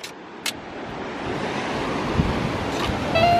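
Ocean waves washing onto a beach at Galveston, a steady broad wash of surf and wind with a couple of brief sharp knocks near the start and a faint engine-like tone at the end.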